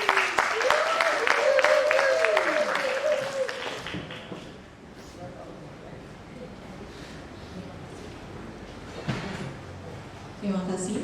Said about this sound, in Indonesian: Saya mohon tepuk tangannya sekali lagi buat kita semua